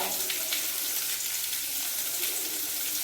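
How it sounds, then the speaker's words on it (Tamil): Steady, even sizzling from a pan frying with a pinch of fennel powder for a Pongal festival dish. The hiss runs unbroken and fairly loud throughout. "இது நல்லா ஃப்ரை ஆகட்டும்"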